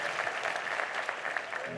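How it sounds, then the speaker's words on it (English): Live show audience applauds the band in a steady, dense wash of clapping that holds evenly throughout. "can we give a round of applause to the amazing band?"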